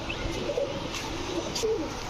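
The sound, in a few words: pigeons cooing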